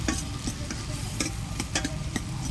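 Dried fish frying over a wood-fired stove while chili powder is stirred in, with a dense close sizzle broken by regular scraping strokes of a spoon against the pan.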